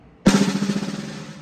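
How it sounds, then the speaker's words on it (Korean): A drum press roll played with a relaxed grip between thumb and index finger gives a sustained, buzzing stream of closely packed strokes after a sharp start. It rings on evenly and fades slowly over a second. "손을 살며시 풀어준 상태에서 이 엄지와 검지를 이용해서"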